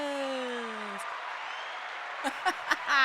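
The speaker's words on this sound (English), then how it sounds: "The crowd goes wild" A canned applause effect of a crowd clapping and cheering, a dense, steady wash of noise that runs throughout, opened by a pair of falling electronic tones, with a few brief vocal bursts near the end.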